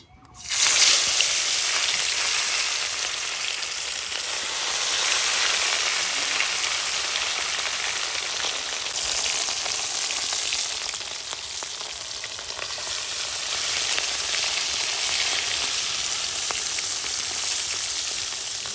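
Bhola fish fry in mustard oil in a kadai, giving a steady, loud, close crackling sizzle that runs unbroken throughout with no voices.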